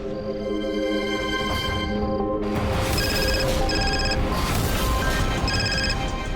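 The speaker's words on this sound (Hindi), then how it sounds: "एक बार लैंडलाइन पे कॉल करता हूँ।" A landline telephone rings in repeated electronic bursts, clear and fairly loud, following a sustained musical tone at the start.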